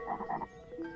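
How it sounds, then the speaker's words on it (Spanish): A frog croaks in a short series of low, rough calls outdoors in a landscape, fairly faint, then a brief higher note, with no speech. "¡Mirad! ¡Una rana!"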